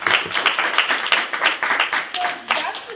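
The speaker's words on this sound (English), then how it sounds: "Let's give her a round of applause" An audience claps in a round of applause at a talk, dense and steady throughout, fairly close and loud with no speech over it.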